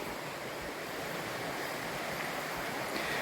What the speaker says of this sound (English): There's a few very small rapids where the water's moving a little bit faster and noisier than normal.